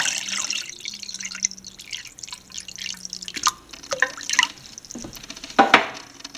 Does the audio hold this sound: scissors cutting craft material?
no